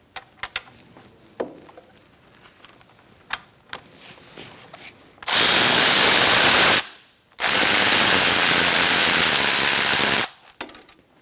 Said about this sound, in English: Using a 17mm socket, we're going to remove these two bolts.